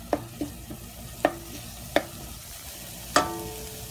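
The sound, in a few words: scraping pan of frying onions and garlic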